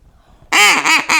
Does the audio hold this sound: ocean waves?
no